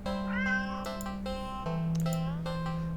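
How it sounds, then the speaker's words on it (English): A black cat in a video game meows repeatedly over a steady low electronic drone, its drawn-out cries close and clear, with several distinct calls spread across the moment. "Then again, it is a cat."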